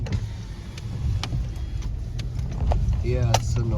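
An electric power window on a car whirs open with a steady motor hum over the low rumble of the vehicle's interior, while people talk and a fire alarm flashes nearby.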